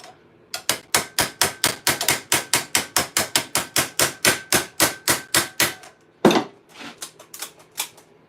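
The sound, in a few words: hammering a rivet on half gauntlet armour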